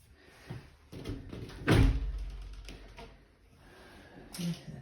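A shower door in a small guest-suite bathroom of a house awaiting renovation, a thud and rattle of it being moved and closed, fairly close, with faint room noise around it.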